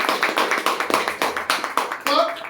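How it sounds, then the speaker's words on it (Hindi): An audience at an RCM business show claps in quick, uneven bursts, loud and close, with a voice speaking over the clapping. "ताली बजा लीजिए सर इस बात"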